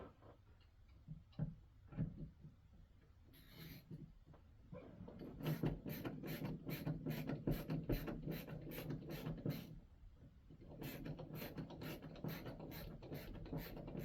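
The last screw of a plastic home thermostat cover is driven with a power screwdriver in steady rapid clicking runs, after some scattered taps. There is a pause, then another run of ratcheting ticks, close and fairly quiet.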